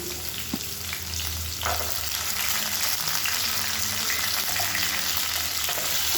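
Chopped shallots and garlic fry in hot oil while being stirred, producing a loud, constant sizzle with occasional scrapes and taps of a utensil against the pan, close up and free of speech.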